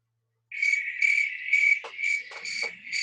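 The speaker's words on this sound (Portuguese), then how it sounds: "Olha o barulho do grilo." Crickets chirp in steady, shrill trilling pulses, close and clear against a silent background, with a few brief clicks mixed in.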